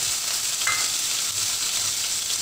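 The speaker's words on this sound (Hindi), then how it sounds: "अब मैं इसके अंदर जीरा डालूँगी, जब जीरा छटक जाएगा तब मैं ये मिर्च डालूँगी" Cumin and chillies sizzle in hot ghee with a loud, dense, continuous crackle that stays even from start to finish, close up and without voices.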